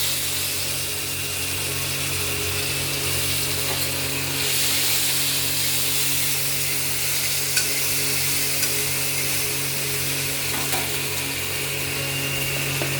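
Chopped tomato, bay leaf and dried chili frying in oil, a continuous close sizzle with a steady hiss and faint hum underneath, unbroken by speech.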